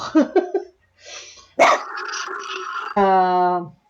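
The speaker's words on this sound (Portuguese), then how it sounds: "algum cachorro tá latindo" A dog barking, a few short yips and a longer whining bark near and clear, mixed with brief bits of speech.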